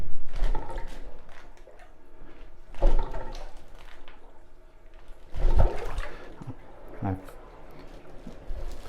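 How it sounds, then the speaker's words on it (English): Sloshing, gurgling water from a plunger working a clogged toilet, coming in a few separate forceful surges with quieter gaps, while a person talks. "when you start plunging, you don't want to plunge like you're trying to churn butter"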